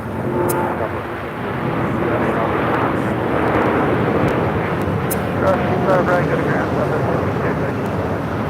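Boeing Dreamliner rolling down the runway at LAX, a broad jet roar that swells and holds, heard under people chatting nearby with occasional clicks.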